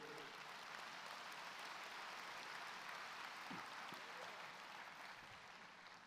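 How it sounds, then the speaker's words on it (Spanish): A church congregation applauds during a Friday Bible teaching service, soft, distant, steady clapping lasting throughout at low level with a faint voice briefly audible. "Dale otro aplauso al rey"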